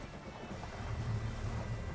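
A Boston Whaler boat's outboard engine idles at a shallow launch ramp, a steady low rumble with broadband wind-like noise, moderately loud and continuous with no talking.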